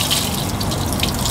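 A bucket of icy cold water pours over a person during an ice bucket challenge, a loud, dense, continuous gushing splash filling the short moment with no talking.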